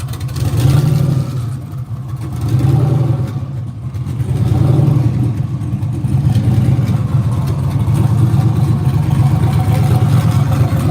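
An LS-swapped twin-turbo Nissan 300ZX with a stage 2 BTR cam idles loud and close, its deep, lumpy rumble swelling in repeated slow surges of light revving over an unbroken low drone.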